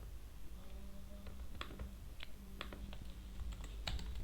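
Computer keyboard typing while Python code is written, a steady run of light key clicks with scattered sharper strokes throughout, close and fairly quiet, no voices.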